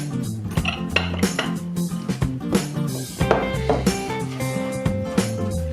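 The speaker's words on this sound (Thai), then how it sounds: "เราก็ซอยซอยขิง" Repeated knife strokes slicing ginger on a cutting board mixed with light clinks of kitchenware, steady and close, with a faint hum underneath.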